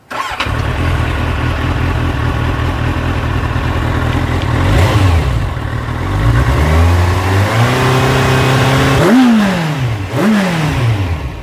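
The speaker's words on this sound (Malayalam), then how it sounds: "ഒരുപാട് ആൾക്കാർക്ക് ഭയങ്കര ആഗ്രഹമായിരിക്കും ഒരു ഇൻലൈൻ 4ൻ്റെ സൗണ്ട് കേൾക്കാൻ വേണ്ടി" A Kawasaki Z800 inline-four motorcycle engine revs hard and steadily, with pitch sweeping up and down through several sharp throttle blips near the end, loud and close.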